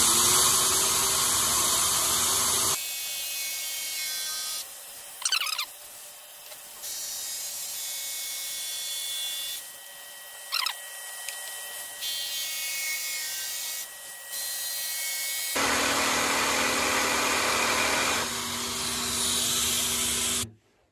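Shop vacuum switched on manually through an iVAC switch in a woodworking shop, a loud steady whine and roar running for most of the stretch with a few brief knocks and rubs.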